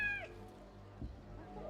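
A cat gives a clear meow up close, followed by a fainter second mew, heard during a game session.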